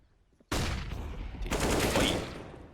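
Counter-Strike match on the Inferno map in an ESL Challenger League game: a player on banana is hit by grenades and molotovs, with two sudden, loud bursts of gunfire and explosions crashing in close together.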